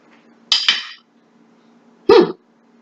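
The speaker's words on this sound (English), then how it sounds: "This is just a butter knife. And let's just cut it down." Butter knife cutting down through a peeled boiled egg, two short clinking scrapes about a second and a half apart against a plate, close and otherwise quiet.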